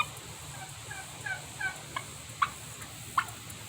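Farm turkeys gobble back in several short, scattered bursts, some faint and some sharper and nearer, over a quiet background hum with no speech.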